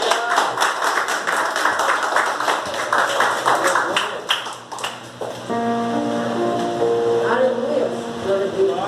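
A church congregation claps hands together during a worship service, brisk rhythmic clapping over a sustained hall tone with talk mixed in, giving way to held organ-like notes after about five seconds.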